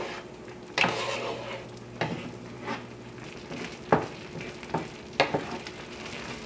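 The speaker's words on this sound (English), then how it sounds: "you want this to come up to a simmer so the gravy will thicken. And just keep stirring it." Gluten-free sausage and mushroom gravy bubbles softly in a pan as a spoon stirs it, with a low steady sizzle broken by several sharp scraping strokes against the pan.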